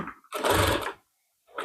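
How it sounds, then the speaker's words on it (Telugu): Sewing machine stitching the half band collar on a lined suit, a loud steady whir lasting about half a second, then silence, then another short burst starting at the end. "తీసుకొని దీనిపైన ఇప్పుడు మొత్తము స్టిచ్ వేసేసుకోవాలి"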